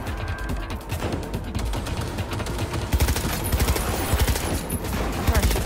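Sustained gunfire from the video game Cyberpunk 2077 Phantom Liberty, a dense, loud stream of rapid shots and crackling impacts that continues through the whole stretch and grows busier toward the end.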